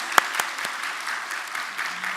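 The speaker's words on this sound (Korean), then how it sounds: "박수 한번 하십시다." A church congregation at a New Year revival service applauds together, a steady wash of clapping with a few sharper claps standing out near the start.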